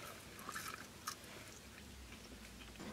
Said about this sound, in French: Ces frites sont tellement bonnes, elles sont croustillantes.